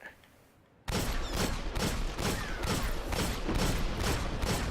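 Rapid repeated gunfire from a weapon in the Destiny video game, a steady string of loud shots starting abruptly after a quiet moment and continuing evenly to the end.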